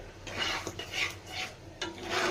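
A ladle stirs a paste of drumsticks with garlic, tomato and chilli in a pan over a medium flame, making repeated scraping strokes against the metal under a faint sizzle.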